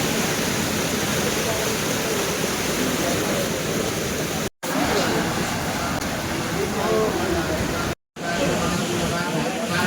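The Alaknanda river rushes with a dense, constant roar of flowing water, broken by two brief cuts to silence, and a voice is faintly present beneath it.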